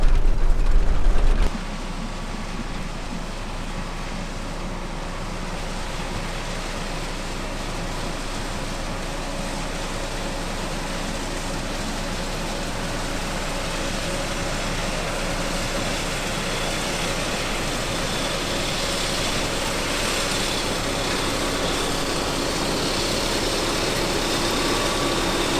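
An old CTS combine harvester running while harvesting faba beans, giving a loud, continuous mechanical roar of engine and threshing machinery that holds steady throughout after a brief louder start.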